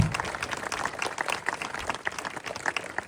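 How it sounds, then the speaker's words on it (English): A crowd at an outdoor Dublin republican gathering gives a sustained round of applause for the colour party, a steady dense patter of many hands clapping at moderate volume throughout. "give a big round of applause to the colour party"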